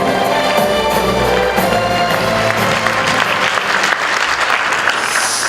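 Loud, dense applause from a crowd at a Korean National Assembly member's book launch event, continuous and close, with a faint voice and music underneath early on.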